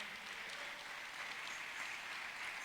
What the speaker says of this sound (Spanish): ¿Le pueden dar un fuerte aplauso al Señor?